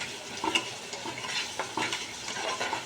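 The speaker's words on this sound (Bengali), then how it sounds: "এখানে যে আদা, রসুন, পেঁয়াজ, টমেটো আর দিয়ে নুন, হলুদ, লঙ্কা গুঁড়ো, মিষ্টি সব দিয়ে এই মশলাটা কষাচ্ছি।" A ginger, garlic, onion and tomato masala with salt, turmeric, chilli powder and a little sugar fries in oil for a prawn malai curry, sizzling softly under repeated spatula scrapes and stirring clatter.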